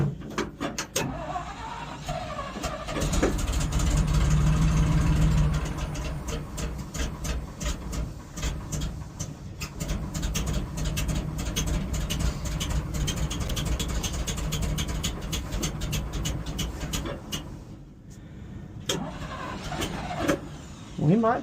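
Cranking and engine noise from an old truck as its fuel pump primes, a steady mechanical churn running throughout, with brief bursts of louder cranking and people talking over it.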